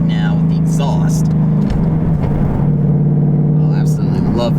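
A Mustang's exhaust in track mode drones loudly and steadily at a low, rumbling pitch, with a brief dip partway through before settling back into the same constant roar.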